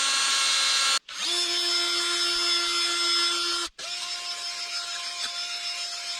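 A power drill whirs in low gear while cleaning a rusty Case 580CK backhoe cylinder. The steady whine stops abruptly twice and restarts each time, close and alone.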